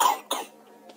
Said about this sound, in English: Listen to my cough.